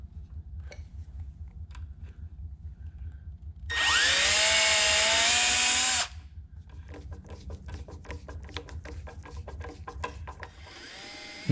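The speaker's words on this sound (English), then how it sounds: "I need to drill a pocket for the fastener to rest in." A power drill bores a pocket for a tabletop fastener in a wooden Shaker-style end table, a loud steady whine of about two seconds with rising pitch, framed by quieter scraping and tapping of workshop handling.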